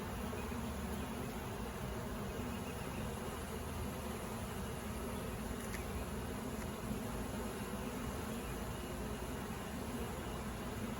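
A sick beehive gives off a steady, dense buzz of many bees, continuous and fairly faint, with no voices.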